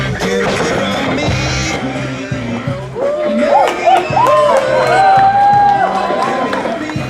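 A wrestling crowd in Tracy (T-Town) cheers with a steady roar of noise under a commentator's voice during a pro wrestling TV show.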